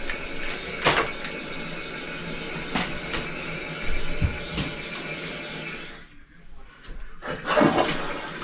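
A household toilet being flushed after a clogged drain was cleared, a loud rushing of water that runs for several seconds with a few knocks and surges, dipping briefly before a final gush.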